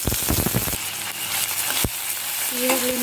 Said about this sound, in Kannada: ಬೆಳ್ಳುಳ್ಳಿ ಚೆನ್ನಾಗಿ ಫ್ರೈ ಆಗ್ತಾಯಿದೆ.